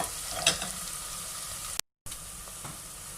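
Matar gosht ingredients lightly frying in a pan, a close, loud, continuous sizzle with a stirring scrape early on, cut by a brief moment of total silence before the hissing resumes.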